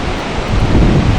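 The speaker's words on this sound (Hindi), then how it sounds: "नीचे कलकल करती हुई कल्पगंगा" Kalpganga river rushing below the Kalpeshwar temple in Urgam Valley, a loud, steady broadband roar of flowing water, close and continuous.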